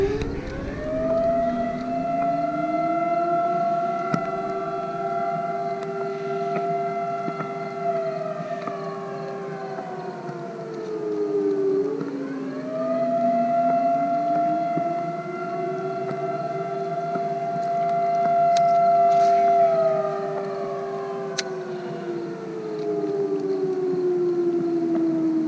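A wailing civil-defense-style siren rises and falls in long slow cycles, sustained and loud, sounding from a distance across open space.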